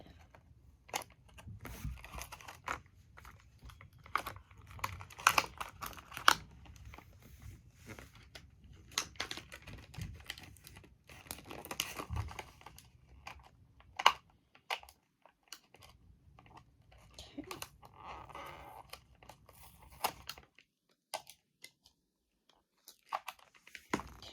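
Tape being picked and peeled off a plastic toy package: scattered crinkly tearing and scratching bursts throughout, close and fairly quiet, with a few soft mumbled words between and a quieter stretch near the end.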